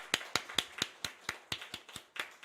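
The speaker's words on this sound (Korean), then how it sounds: "여러분, 하나님께 영광의 박수를 한번 드리겠습니다." A church congregation claps in unison, about eleven crisp, evenly spaced claps in steady rhythm, close and fairly quiet with no talk.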